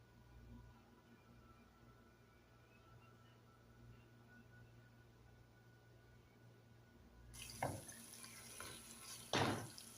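Water pours into a pot of kabsa during cooking, a splashy gush arriving after a long stretch of quiet low hum, with two strong bursts of pouring near the end.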